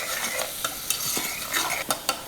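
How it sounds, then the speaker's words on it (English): Peas are stirred into buttered carrots with a little salt in a pan, giving close, brisk scraping strokes and soft clinks over a gentle background sizzle, with no talking. "now we're going to add our peas in with the buttered carrots. Add just another little bit of salt and just stir this up together"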